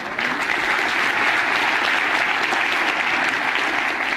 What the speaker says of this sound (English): I appreciate the clapping,